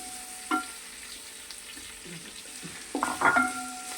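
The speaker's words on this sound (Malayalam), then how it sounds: "നമുക്ക് അരിഞ്ഞു വെച്ചേക്കണ സവാള, ഇഞ്ചി, പച്ചമുളക്, വേപ്പില എല്ലാം." Chopped onion, ginger, green chili and curry leaves fry for a pork curry, with a gentle sizzle under close spoon scrapes and a few knocks against the pan.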